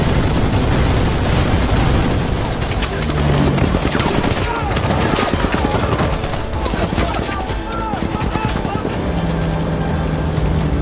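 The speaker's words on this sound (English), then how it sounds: "They strafed the German forces with machine gun fire." Dense, continuous machine gun fire strafes in a war scene, a loud, rapid, unbroken rattle with engine rumble mixed in and a voice narrating over it.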